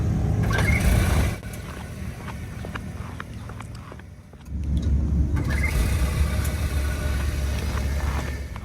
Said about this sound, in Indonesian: dan ini pas mesin mobilnya nyala ulang abis idling stop.